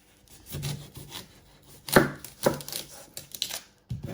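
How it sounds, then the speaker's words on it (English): A kitchen knife cutting through an onion on a board, several distinct crisp chops and taps spaced unevenly, close and clear with no talking. "So next step, we're going to prep our onion. You first want to chop your end off."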